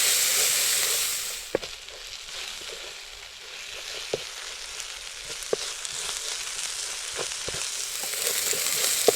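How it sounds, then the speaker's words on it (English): Flour cooking into gravy with mustard powder in a pan on a Trangia camping stove while wild camping, a steady close sizzle and hiss with occasional soft clicks and stirs, no voices. "So we'll cook that flour out."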